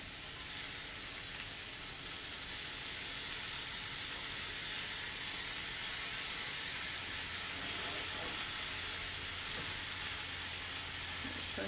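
Zucchini noodles fry in a pan with a steady, close, even sizzle and hiss that holds for the whole stretch, a low hum joining near the end and no one talking.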